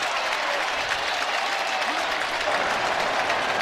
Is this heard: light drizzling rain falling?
no